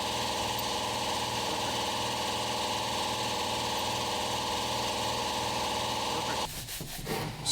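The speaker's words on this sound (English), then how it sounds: "I'm going to put my impact driver on this and spin it at the same time" An impact driver spins a part held in a vise as a homemade lathe during a manual steering rebuild, a steady whirring and rubbing drone with a pulsing rhythm that stops abruptly near the end.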